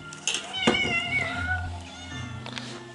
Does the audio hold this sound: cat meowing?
yes